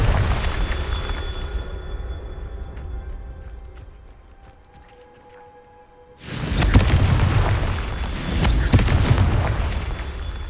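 A Confringo blasting spell detonates in Hogwarts Legacy, a sudden loud explosive boom with a roaring, crackling tail that follows a quieter stretch of ambient background sound.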